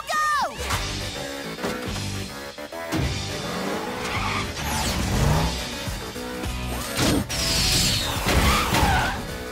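Cartoon car skidding with screeching tire squeals, then speeding away amid crashing effects and engine whooshes, loud and busy throughout with no talk.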